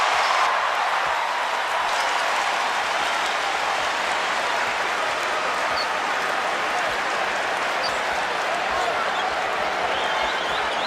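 Loud college basketball crowd at Syracuse during a game against Clemson, a dense, sustained roar of cheering and applause filling the arena without letup.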